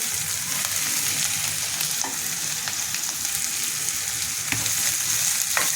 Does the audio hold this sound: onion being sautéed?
yes